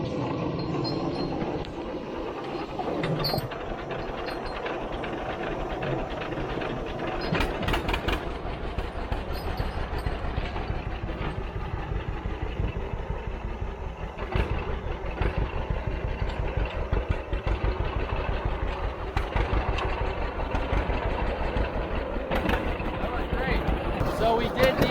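A 1951 John Deere A tractor engine fires and settles into a steady, loud, rhythmic popping run that continues without a break, heard up close.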